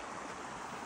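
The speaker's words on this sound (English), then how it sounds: "Look at the river." A river near small falls rushes in a steady, even wash of flowing water, close and continuous for a brief moment with no voices.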